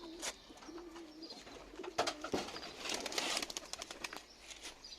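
Soft low cooing from breeding pigeons repeats a few times, mixed with bursts of rustling and wing flaps nearby.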